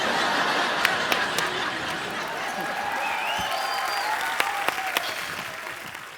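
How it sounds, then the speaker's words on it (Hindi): Studio audience applause on a television comedy show, a steady, fairly loud wash of clapping mixed with light laughter and crowd chatter, a few sharper claps standing out. "मैं ताली का नेटवर्क चेक कर रहा था कि आ रही आवाज कि नहीं आ रही।"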